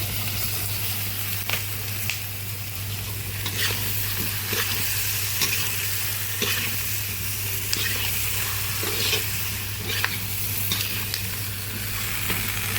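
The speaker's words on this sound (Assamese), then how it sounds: "আমি আলুখিনি ঢালি দিছোঁ।" Potatoes tipped into a pan of oil fry for a samosa filling, giving a steady bed of sizzling with scattered scrapes and stirring clicks, continuous and fairly close, with no voices.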